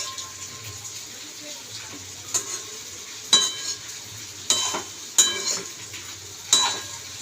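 Spiced ash gourd stalks being stirred in a frying pan, a soft steady sizzle broken by five or six short scraping stirs that rise and fade, heard close with no talk.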